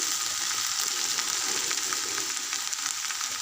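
Tomato pieces with turmeric fry in a pan for an ivy gourd and tomato chutney, giving a steady, continuous sizzle, close and even, with no talking.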